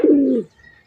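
A single close pigeon coo, a short low warbling note lasting under half a second, then quiet.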